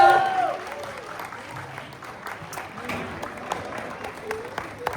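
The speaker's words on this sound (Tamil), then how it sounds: "ஒரு பெரிய கைத்தட்டல் கொடுத்தலாம்." Applause at a Tamil school annual day after a performance, a moderate patter of clapping from the audience with voices mixed into the hall noise.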